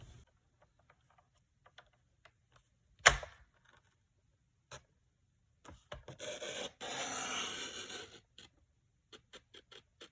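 Paper card stock being cut along its long side on a paper trimmer for a framed interactive card, giving a sharp snap followed by a sustained rasping slide of the blade through the stock, with small taps around it and no talk.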